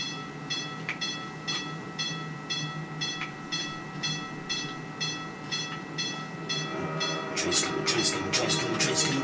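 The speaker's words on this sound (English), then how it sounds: "Train's coming." A train approaches on the tracks with a steady rumble and regular clicking that builds louder toward the end, as a voice briefly talks over it.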